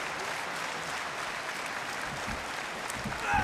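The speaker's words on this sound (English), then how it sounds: "I think the fans are chanting or cheering because they see the match continue." Wrestling fans in an arena applaud and cheer as an AEW world championship match continues, a steady dense roar of clapping holding at one level and swelling slightly at the end.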